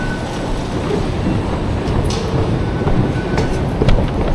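A metro train on line 10 in Northeast China during rush hour, heard from close by: a loud, continuous rumble and roar with faint wheel squeals and rail clatter, steady throughout.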